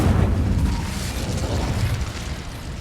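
The Incendio fire spell from Hogwarts Legacy bursts as a loud, dense whoosh and roar that holds for nearly three seconds and then slowly thins out, with no talking.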